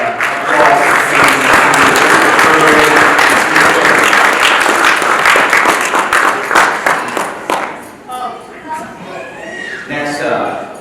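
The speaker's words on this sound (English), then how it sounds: "just a big applause" A wrestling banquet crowd breaks into loud, sustained applause and cheering for a youth wrestling coach, then the clapping thins out into scattered claps and murmured chatter near the end.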